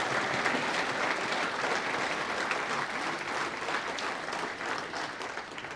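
Sustained applause from an audience at a bodybuilding federation's national presentation night, a dense, even wash of clapping holding steady throughout with faint crowd murmur underneath.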